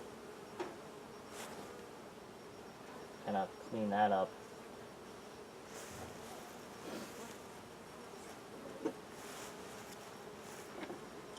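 Honey bees buzz faintly around a hive comb with cross comb during hive work, a soft continuous hum under scattered handling noises and a few spoken words from the beekeeper.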